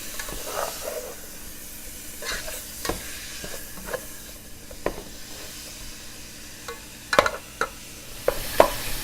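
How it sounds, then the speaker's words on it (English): Ground meat browning in a pan for taco soup, a steady soft sizzle broken by scraping stirs and a few louder clatters, with no talking. "our meat's getting good and brown"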